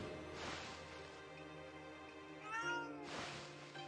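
A cartoonish cat meows twice in the video game Ōkami after being fed fish, a short clear meow near the start and another near the end over soft, steady game music.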